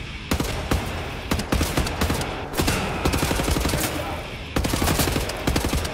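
Heavy automatic gunfire from a Wolfenstein: The New Order weapon rattles in dense, irregular bursts of loud close shots, with brief gaps between volleys and no talk over them.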